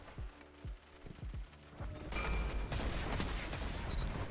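Gunfire in Destiny 2 starts as several separate sharp shots, then turns into a dense, loud burst of rapid fire with explosive crackle.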